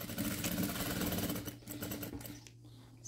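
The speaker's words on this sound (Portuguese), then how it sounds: "eu passo uma costura nessa reta da marcação" A sewing machine stitching a straight seam on tablecloth fabric, a steady fast mechanical whir that slows and fades toward the end, heard up close.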